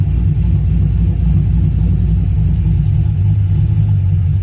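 A Nissan car with a CD009 transmission has its engine running loud and steady close by, a continuous low rumble that holds throughout with no talking.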